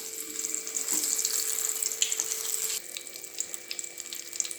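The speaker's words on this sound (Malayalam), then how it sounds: "നമ്മൾ തയ്യാറാക്കി വെച്ചിട്ടുള്ള എല്ലാ സമൂസകളും ഇതുപോലെ വറുത്തെടുക്കാം" Steady hiss of egg samosas deep frying in oil, a continuous bubbly sizzle with scattered crackles, fairly close and without any voices.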